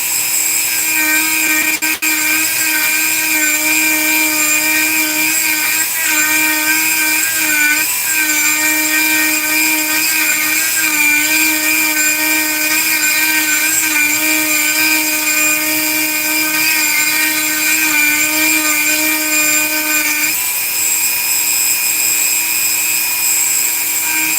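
A power tool gouging out a steel battle spoon at a live forge event gives a loud, steady, high-pitched whine that runs unbroken for the whole stretch, with slight wavers in pitch as the cut changes.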